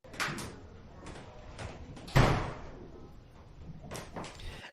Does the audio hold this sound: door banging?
yes